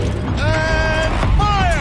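A turret rotating in the video game Horizon Zero Dawn, heard as a loud mechanical creaking and grinding with a whining tonal edge over rumbling background game noise, lasting just under two seconds.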